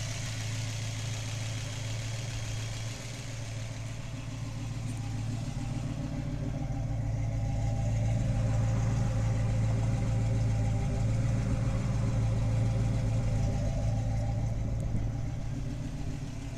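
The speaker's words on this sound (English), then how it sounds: "Hear them solid lifters." A 1970 Ford Mustang Boss 302 V8 with solid lifters idling nearby, a steady low rumble with a faint ticking valvetrain clatter running for the full length, no voices.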